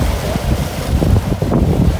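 Wind gusts and rolling sea waves on a sunny beach at Deal in Kent, a steady close roar of buffeting wind over the low wash of surf, with no voices.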